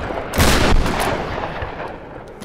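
Shotgun blasts in the video game Tomb Raider, during a boar hunt in a shanty town area: one loud, booming shot followed closely by a second, with the roar fading away behind them.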